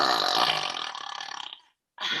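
A long, loud, rumbling burp rolls on for about a second and a half, then cuts off, followed by the start of another.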